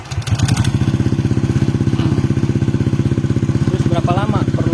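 A motorcycle engine idles with its radiator cap left open while the cooling system is bled after an engine rebuild, thumping in a fast steady loud pulse close by, with a voice speaking briefly over it.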